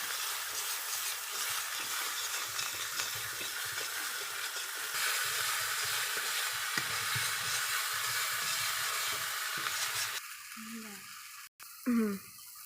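Spice paste with turmeric powder sizzles and fries in a pan, a steady bright hiss for about ten seconds before it breaks off into a few clattering stirring and handling noises.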